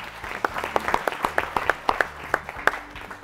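A small studio audience at a national quiz competition claps for a team, distinct individual claps in a loose, uneven rhythm, close and fairly crisp over a low background hum.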